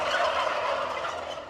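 Turkeys gobble inside a barn that houses some 7,500 birds on a Minnesota farm. A brief, loud, overlapping chorus of gobbles fills the space with no voices.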